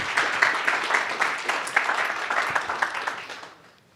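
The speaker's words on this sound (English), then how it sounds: "So just a huge round of applause for Connor and all the work that he's done." A conference audience at a technology keynote gives a round of applause, dense broadband clapping at moderate distance that holds steady and then fades away over the last half second.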